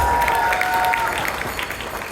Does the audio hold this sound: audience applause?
yes